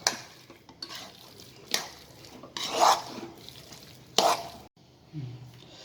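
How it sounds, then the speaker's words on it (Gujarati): Boiled peas being stirred into a samosa filling in a pan, with a few distinct scraping and stirring strokes, moderately loud and close, with no talking. "વટાણા બાફી લીધા છે, હવે આપણે અંદર નાખી દઈશું અને હલાવી દઈશું"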